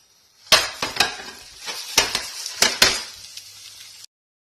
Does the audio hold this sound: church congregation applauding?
no